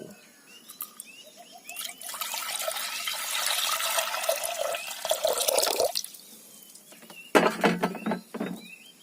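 Water splashes and pours into a soup pot for fish tinola, building to a sustained rush for several seconds, then stopping, followed by a few clattering knocks and drips near the end.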